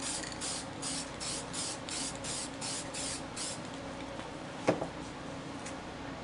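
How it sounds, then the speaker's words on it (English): Spray paint can hissing black paint in rapid short bursts, steady broadband spray with repeated pulses, faint and close, with a small tap near the end. "Spray some orange there on the bottom"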